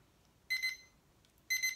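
A newly bought kitchen timer's alarm rings in two bursts of rapid high electronic beeps, loud and close, with a short silence between them and no talking.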